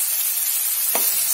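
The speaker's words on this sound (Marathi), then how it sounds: "ते असं का परतून घ्यायचं तेलामध्ये" Ground masala paste fries in hot oil for a vegetable curry. A steady, close, loud sizzle hisses throughout, with one brief stirring scrape near the end.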